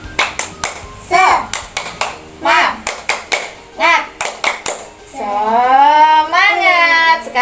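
Young children clap in rhythm during a classroom chant, sharp clustered claps alternating with chanted and sung voices, ending in a sustained sung phrase.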